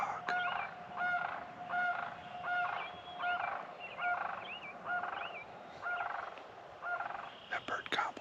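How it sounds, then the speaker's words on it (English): A wild turkey gobbles repeatedly on a spring hunt, a series of rapid rattling gobbles at a steady rhythm, moderately near and clear against a quiet outdoor backdrop, with a few sharp clicks at the end. "That bird gobble right here in front of me."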